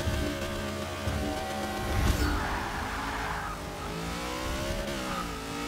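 In a Forza Motorsport 6 drag race, a video-game car engine revs hard and climbs through the gears. It is loud, continuous and up close, with a shifting whine and some tire noise.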